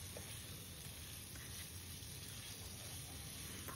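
Potatoes frying in oil for a prawn curry, a continuous soft sizzle and crackle, steady and low-level throughout with no talking.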